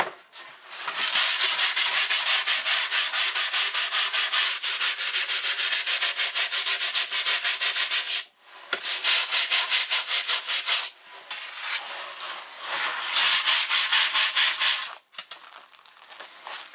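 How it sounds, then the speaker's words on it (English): A foam deer taxidermy form being scraped all over gives loud, close, continuous rasping strokes in long stretches, broken by brief pauses, with no talking. "So I'm going to pretty much scrape this whole form."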